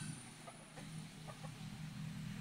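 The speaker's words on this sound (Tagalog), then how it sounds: "Aking mga alagang manok." Pet chickens clucking softly in a rural yard, a few short clucks scattered over a low steady background hum, fairly faint and with no talking.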